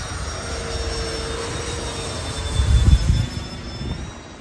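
A Freewing F-14 Tomcat RC jet with twin 80mm electric ducted fans flies past, a steady high whine that swells into a louder roaring pass midway, then eases off.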